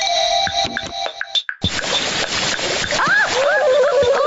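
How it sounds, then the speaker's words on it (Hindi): Cartoon water jet spraying under pressure onto a face, a hissing splashy burst after an electronic whir, continuing as a steady loud spray with squeaky cartoon voice sounds over it. "जब प्रेशर से पानी आएगा तो आपका फेस 1 मिनट में क्लीन हो"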